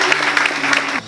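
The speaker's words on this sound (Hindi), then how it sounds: "आइए जोरदार ताली बजा फिर से" Loud applause from a congregation during a Sunday church service, a short dense burst of clapping that fills the space and stops abruptly.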